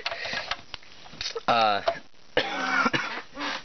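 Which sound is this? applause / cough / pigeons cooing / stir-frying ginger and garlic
cough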